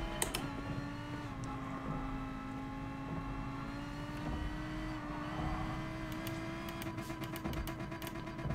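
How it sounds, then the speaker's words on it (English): A race car engine in the Gran Turismo Sport video game drones loudly and steadily, its pitch creeping upward, with a few sharp clicks near the end. "a very loud engine revving in the background"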